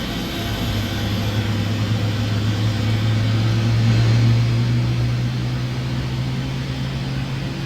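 Boeing 777 jet engines spooling up in the PMDG flight simulator: a steady low turbine hum and whine that swells slightly midway, then holds constant, with no talking.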